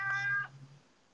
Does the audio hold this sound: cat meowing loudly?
yes